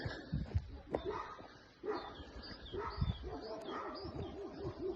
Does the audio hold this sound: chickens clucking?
no